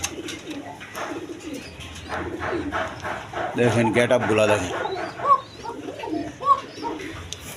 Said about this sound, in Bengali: ওরার রাজা ধামাসি কবুতর।